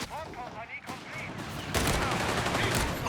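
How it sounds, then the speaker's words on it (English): Machine gun fire in the World War II strategy game Company of Heroes 3 during a 2v2 match, sustained crackling bursts building up loudly partway through, mixed with other battle noise and a commentator talking. "Got a machine gun pushing up actually."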